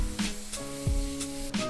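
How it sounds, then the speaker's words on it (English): Spray paint in a highlight colour hisses onto a ski in several short, soft bursts, faint and close, over quiet background music. "You spray paint your highlight color on the ski"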